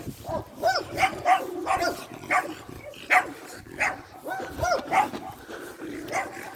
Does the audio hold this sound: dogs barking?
yes